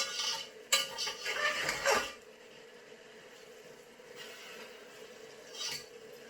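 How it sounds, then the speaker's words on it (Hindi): Rice being stirred into melted sugar in a pot for zarda sweet rice, a spoon clattering and scraping against metal for about two seconds before the cooking fades to a quiet simmer. "अच्छे से अब शुगर में जो अपने चावल है वो मिक्स करें।"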